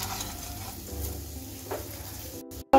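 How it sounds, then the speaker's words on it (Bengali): Rice frying together with fried grated coconut in a pan for paneer pulao, a steady close sizzle with soft stirring scrapes throughout, briefly cut off near the end, no voices. "এখন সব কিছু মিশিয়ে একসঙ্গে আবার ভেজে নিচ্ছি চালটাকে।"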